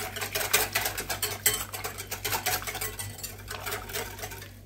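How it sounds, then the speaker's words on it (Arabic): A utensil whisks chocolate pancake batter in a bowl, giving quick, rhythmic scraping clinks against the bowl's sides that keep going steadily and close by before easing off at the end. "غادي نخلطو مزيان."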